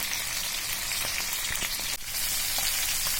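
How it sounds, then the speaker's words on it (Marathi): Masala-coated Indian mackerel (bangda) frying in hot oil on a low flame, a dense continuous close-up sizzle with occasional crackles and pops, no voices. "पाच बांगडे मी टाकून घेते मस्त तेल तापलेलं आहे"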